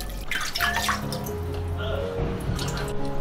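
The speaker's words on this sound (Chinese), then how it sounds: "煮熟了捞出来清洗多几遍。" Boiled chicken feet are rinsed in water in a kitchen, with steady splashing, sloshing and dripping that stays close and fairly loud for a few seconds.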